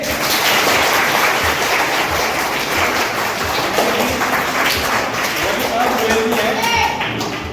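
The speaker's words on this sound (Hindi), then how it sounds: "बोल सब ताली बजाएंगे।" A crowd keeps up dense, steady clapping at an award ceremony for a Ramayana knowledge competition, loud and continuous, with voices mixed in beneath.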